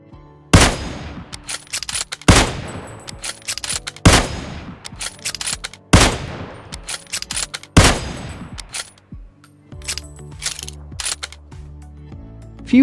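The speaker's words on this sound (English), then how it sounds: "Even the reloading sound is different" Five loud, evenly spaced video game rifle shots, each followed by brief metallic clicks of a bolt being worked, ending in a few lighter mechanical clacks of reloading.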